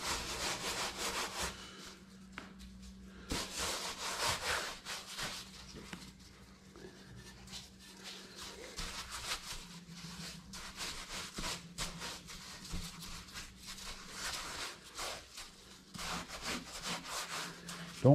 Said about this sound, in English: rub that salt into the cape